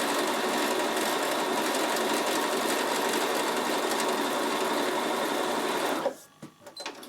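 A Bernina sewing machine sews a double overlock stitch continuously at a fast, even whir for about six seconds, then stops, followed by a few soft clicks.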